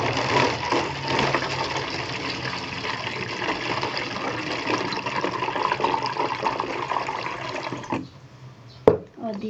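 Water pours steadily and loudly into a homemade DIY aquarium fish tank, a continuous splashing rush for about eight seconds that stops abruptly, followed by a single brief knock and a low murmur.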